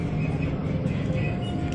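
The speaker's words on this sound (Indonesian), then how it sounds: "ini dia nih melintas komuter lain tujuan Duri, JRS 205 series, 8 kereta doang" Low rumbling drone of a passing eight-car JR 205 series electric commuter train in Jakarta, with steady mechanical hum, fairly close and continuous.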